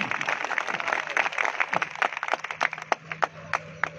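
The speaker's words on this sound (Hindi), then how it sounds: "देखा अब तो ताली जोर बजा सका" A crowd claps at a political rally in Allahabad, with a dense burst of applause that thins into scattered, sharp individual claps toward the end.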